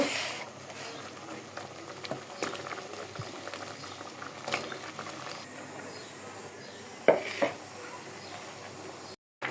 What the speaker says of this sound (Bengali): আমি এখন ধুয়ে রাখা লাউ দিয়ে দিব